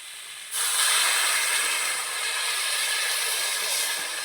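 Water poured into a hot pan of sautéed water spinach sets off a sudden loud hiss that holds as a steady, bright steaming sizzle after the first half-second.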